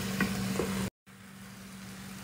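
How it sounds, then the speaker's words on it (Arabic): Meat frying and being stirred in a pot for Omani qabuli rice, a steady close sizzle with a couple of scraping stirs, a brief cut to silence, then continued quieter sizzling. "نبدأ ننزل اللحمة، وأخلطي إلين يتغير لون اللحم"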